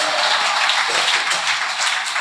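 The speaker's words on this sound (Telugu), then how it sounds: "చప్పట్లు కొట్టండి గట్టిగా." A church congregation claps hard together at a Telugu gospel meeting, a dense, steady wash of many hands close by that fills the whole stretch without any voices over it.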